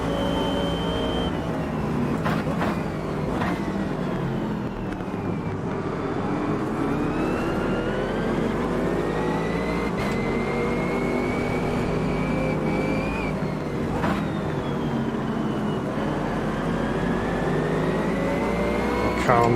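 Race car engines in Automobilista 2 at the Kyalami circuit, a loud continuous engine howl rising and falling through gear changes, with other cars nearby in the pack and brief sharp upshifts throughout.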